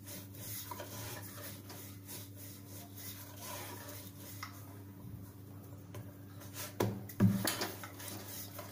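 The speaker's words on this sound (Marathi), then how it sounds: "आणि लाटून घेऊ आपण एकसारखं" A rolling pin rubs and rolls over methi (fenugreek leaf) paratha dough on a board, a soft, steady scraping and rubbing close by with a low hum behind it and a few louder knocks near the end.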